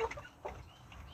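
Rhode Island Red chickens in a coop giving a few soft, faint clucks in quick succession, close but quiet against low background noise.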